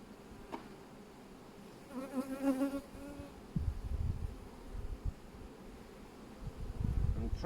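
Steady buzzing of many honey bees around hive frames in an apiary, with a louder droning pass in the middle and low thumps and handling noises toward the end.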